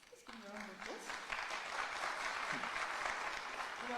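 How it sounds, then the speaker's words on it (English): An audience at a startup pitch event at Wits applauds steadily for several seconds, a dense, close wash of clapping with a voice briefly calling out over the start. "Let's give a round of applause"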